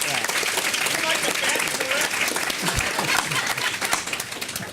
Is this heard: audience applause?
yes